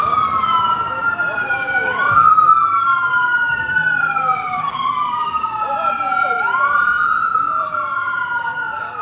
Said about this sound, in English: Got the police here, the ambulance.